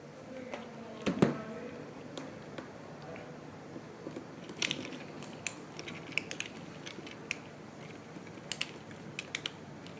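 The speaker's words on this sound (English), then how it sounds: "Make sure you want to tighten your screws." Screws are tightened on an arcade stick during an art mod, producing close, small clicking and ratcheting ticks scattered irregularly over a faint background hum, with a sharper knock near the start.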